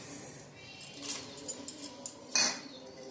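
A short rattle and clatter as chopped undhiyu vegetables, bottle gourd, cabbage and cluster beans, tumble into a metal pressure cooker, with a few light clinks before it, quiet and close.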